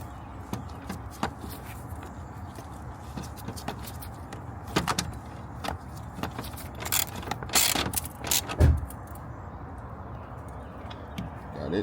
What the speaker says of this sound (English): so our bolt right here for this bar, go ahead and tighten it back down.